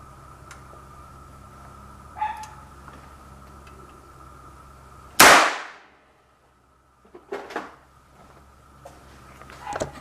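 A single sharp, very loud bang from a homemade cap gun fires midway, decaying quickly into silence, with a few fainter clicks and handling knocks before and after.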